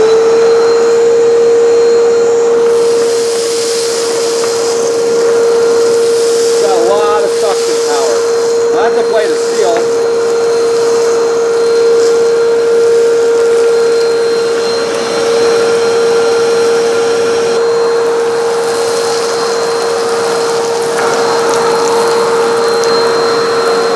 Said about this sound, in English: Also, notice how quiet it is.